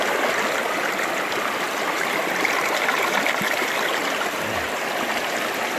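Water of the San Gabriel River East Fork flowing over rocks, a steady, close rushing and gurgling wash that fills the whole stretch without pause.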